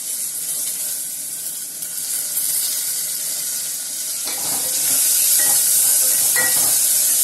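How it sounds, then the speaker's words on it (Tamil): Curry leaves drop into hot oil for a fenugreek tamarind kulambu. A loud, steady hiss swells further after about four seconds, with crackling pops in the sizzle and no voices. "அடுத்து வந்து பார்த்தீங்கன்னா அந்த கருவேப்பிலையை லைட்டாக போட்டுக்கலாம்."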